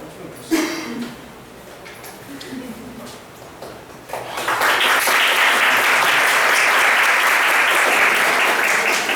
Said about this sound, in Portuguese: Vocês merecem uma salva de palmas